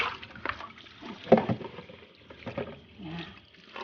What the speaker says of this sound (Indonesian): Sekarang tinggal kita bilas.